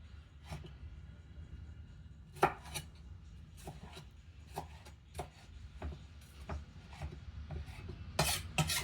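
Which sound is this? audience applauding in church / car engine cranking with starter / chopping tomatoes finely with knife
chopping tomatoes finely with knife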